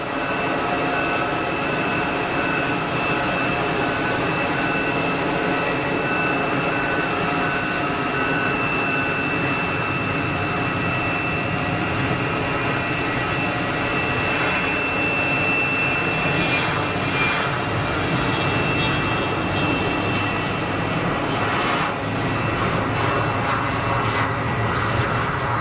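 A KLM airliner rolls for takeoff at Geneva Airport, a sustained, broad jet-engine roar that holds steady for the whole stretch, heard from a distance with a thin high whine running through it.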